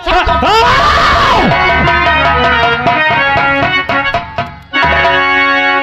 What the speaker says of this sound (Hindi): सब जन चिल्ला यार।